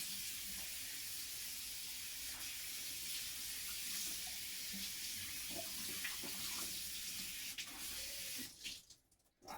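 Steady running tap water splashing continuously into a sink while rinsing a synthetic wig, close and even, cutting off abruptly near the end.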